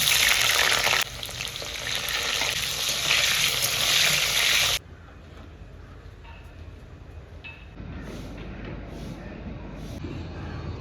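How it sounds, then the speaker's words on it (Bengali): Potatoes frying in a pan for a cabbage dish give a loud, steady sizzle for the first few seconds. The sizzle then drops to a quieter background hiss with faint clinks. "বাঁধাকপিতে দেবো বলে আলুগুলো ভেজে তুলে নিচ্ছি।"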